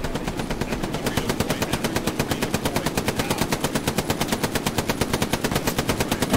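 Rapid automatic gunfire from the video game Hell Let Loose rattles in an unbroken, evenly spaced stream of loud, close shots, sustained without pause.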